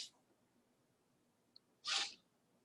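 A single sharp sneeze bursts out near the end of a quiet stretch during a statistics class lecture, loud and brief against a low room hum.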